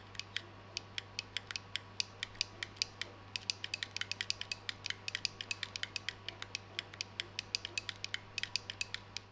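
An 8Bitdo NEO GEO wireless controller's D-stick clicks in rapid, irregular bursts, each tick sharp, hollow and faintly pinging, close-up and quiet over a steady low hum.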